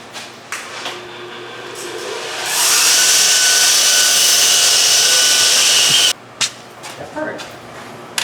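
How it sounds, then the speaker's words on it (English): Sanding on a painted bike frame produces a loud, steady hissing whir that builds up, holds for a few seconds, then cuts off abruptly, with brief scraping and quieter voices before and after. "I just want to sand it back a little bit"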